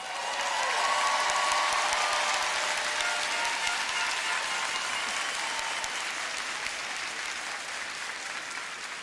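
Applause from a high school graduation crowd honoring the class of 2022, a dense, steady wash of clapping that stays loud and even from start to finish and fades only slightly at the end.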